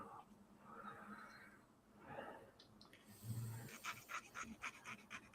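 A dog snores nearby, slow rhythmic breaths rising and falling, with some louder snorting breaths toward the end.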